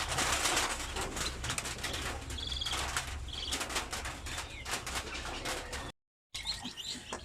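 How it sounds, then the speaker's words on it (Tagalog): Newly hatched chicks from a home incubator peep softly in short, scattered chirps over a faint background rustle, quiet and close, with a brief dropout near the end. "So yan po ang ating mga sisiw."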